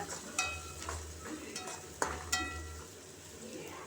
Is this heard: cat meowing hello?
no